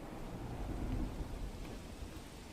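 Heavy monsoon downpour with rumbling thunder in Danta, Banaskantha, a dense steady roar of rain with a low rolling thunder swell.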